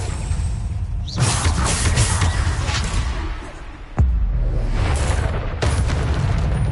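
Blasts from the Bombarda spell in the game Hogwarts Legacy: loud, booming explosions with rumbling tails, one after another, under a dense background of battle noise.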